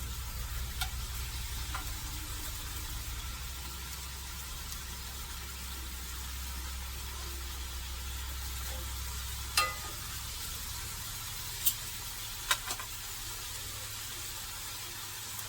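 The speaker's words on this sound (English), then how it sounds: "I'm going to get all this seared off" Beef stew meat sears in a pan for a canned beef stew, a steady close crackling sizzle with a low hum beneath and a few sharp utensil clicks, no talking.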